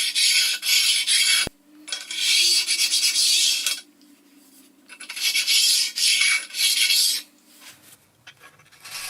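A small abrasive stone scrapes along the inner edges of a CJ0618 7x12 lathe bed in several sustained gritty rubbing passes, close and fairly loud, separated by short quiet gaps and a small clink, with no voices.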